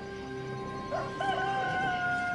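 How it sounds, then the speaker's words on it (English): A rooster crows loudly once with a rising, wavering cock-a-doodle-doo over a faint steady hum, clear and close, with no talk. "Immediately, a rooster crowed."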